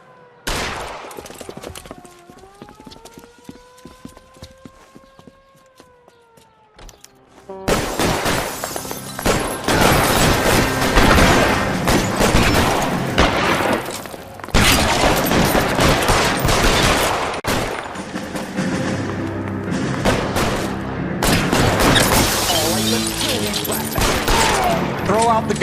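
L.A. Noire gunfight during a stick-up at a gas station case: after a quieter opening with a tonal sweep, sustained loud gunfire erupts and continues in dense bursts, with voices shouting in the mix.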